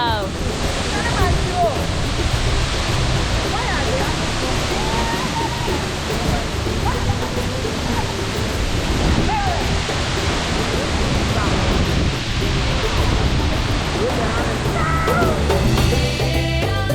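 Tagbo waterfall in Ghana's Volta Region roars as a continuous broadband rush of falling water, loud and close, with wind buffeting the microphone and a voice faintly under it.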